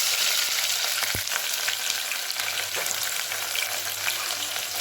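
Shallots frying in a pan give a steady, close sizzle with a brief sharp clink near the start, and no voices.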